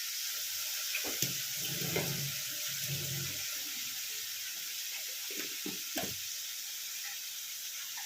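Water from hand-washing splashes into a hot cooking pan while making a Bengali fish-oil chochori, with sizzling and stirring bursts under steady frying noise, close and moderately loud.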